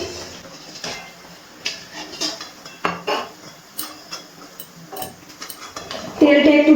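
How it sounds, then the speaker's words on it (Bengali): Fried chicken patties being lifted out of hot oil, with a spatula or tongs clinking on a pan in scattered knocks and scrapes, then a louder burst of sizzling right at the end. "লাল লাল করে আমি ভেজে নিয়েছি চিকেন প্যাটিসগুলো। এবার তেল থেকে তুলে নিচ্ছি।"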